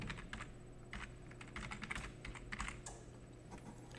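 Fingers type on a computer keyboard in quick irregular bursts of soft key clicks, close and quiet, with a faint steady hum underneath.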